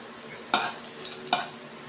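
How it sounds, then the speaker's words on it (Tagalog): Black beans and other food sauté in a hot pan with a soft background sizzle, while two sharp scraping stirs of a utensil stand out against it. "Igigisa ko po ito, haluan ko ng black beans."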